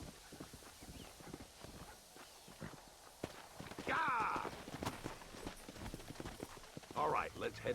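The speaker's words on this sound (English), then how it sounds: "there should be some horses for us across the way." Horse hooves clip-clop at a walking pace in the video game Red Dead Redemption, with an even rhythm under talk and brief whinny-like tones in between.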